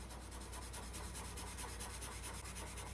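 Grizaye charcoal colored pencils laying down colour on black paper in soft, steady rubbing strokes, close and quiet, with a faint scratchy texture and no talking.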